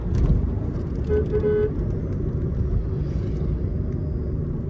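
Skoda Slavia 1.5 TSI automatic engine while driving, a steady low rumble of engine and road noise heard from inside the cabin, with a brief faint tone partway through.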